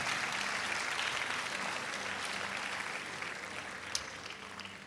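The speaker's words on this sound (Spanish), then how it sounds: "Un aplauso." Church congregation applauding, a steady crowd of clapping hands that carries on evenly at moderate volume, with one brief sharp sound near the end.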